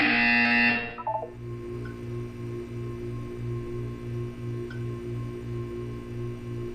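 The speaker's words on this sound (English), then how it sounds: "You will hear a buzzer. When you hear the buzzer, look up at the ceiling." A tone cuts off, then a low electronic buzzer from the video game Portal 2 pulses steadily in a long run of short, evenly spaced beeps.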